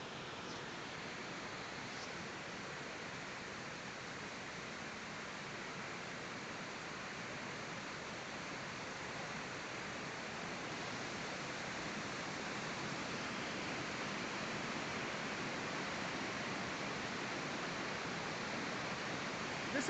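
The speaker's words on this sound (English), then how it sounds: "This is called the Wahlang Falls." Steady, broadband rush of falling water at Wahlang Falls near Cherrapunji, Meghalaya, a multi-stage waterfall, constant and full for the whole stretch, with no voices or breaks.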